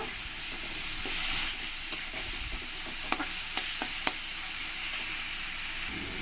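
Tomato with chilli, ginger and garlic paste sautéing in a pan, a soft continuous sizzle with a few sharp clicks of a spoon stirring against the pan, no talk.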